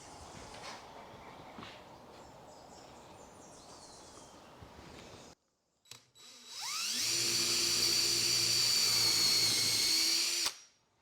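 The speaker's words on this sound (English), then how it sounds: "Now I'm going to use a 5/16 drill bit and drill through these into a sacrificial piece of wood" A 5/16 drill bit bores through a plastic bucket lid into sacrificial wood underneath, a close, loud, steady high whine that rises as the drill spins up and runs continuously for several seconds before cutting off.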